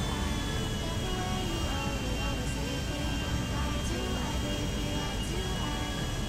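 Steady roar of a large jet aircraft engine in GTA 5, a constant, loud whine and rumble that holds unchanged throughout with no breaks.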